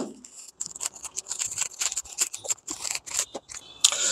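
The package of a cheap nano ceramic car coating kit is opened up close with crisp snipping, crinkling and rustling of plastic wrapping in quick irregular bursts.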